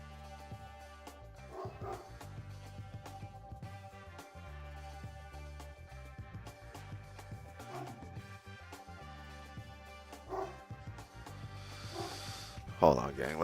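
A dog barks repeatedly in short bursts at a moderate distance, scattered over a steady background hum, with a louder outburst near the end.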